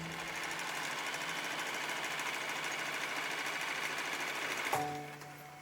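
Sewing machine running at a makeshift sewing centre, a fast, even mechanical whir that holds steady for several seconds, then cuts off, leaving a faint electrical hum.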